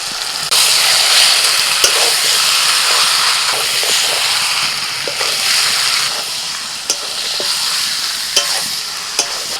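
Marinated chicken sizzles and fries in a pan with ground onion, garlic and green chili, a steady loud hiss running throughout with occasional stirring clicks and scrapes, no voices over it.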